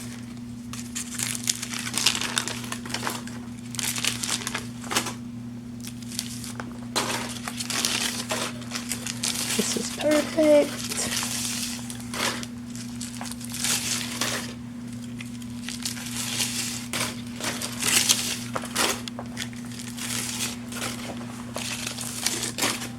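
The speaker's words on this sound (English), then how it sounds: "I'm just pulling the foils out so they can see." Aluminium hair foils are pulled out of freshly coloured hair in a salon, making intermittent close crinkling and rustling bursts over a steady low hum, with a brief spoken remark partway through.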